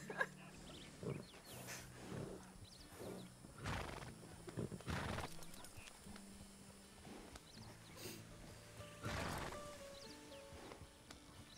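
Horses in the Red Dead (RedM) video game snort, whinny and neigh in short bursts over the faint clip-clop of hooves, with a few loud calls scattered across a dozen seconds and no talking.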